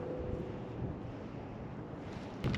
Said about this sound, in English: The wind's probably getting her.